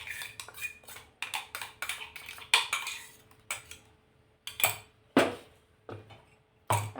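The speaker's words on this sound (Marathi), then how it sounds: "आता हे करते मिक्स, छान मिक्स करून घ्यायचं।" Metal spoon scraping and clinking against a bowl while pea dosa batter is mixed, in a series of sharp, close strokes with short pauses between them.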